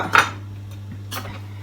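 A knife cutting bitter melon on a board, two sharp chops about a second apart against a quiet, humming background.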